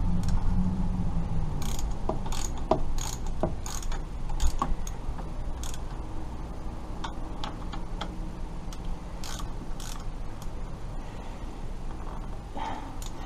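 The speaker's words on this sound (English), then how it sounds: "now some hot ratchet action" Ratchet wrench clicking as M6 bolts are tightened on a Suzuki FL125 motorcycle during an oil and filter service, close-up bursts of rapid ticks with brief pauses between strokes.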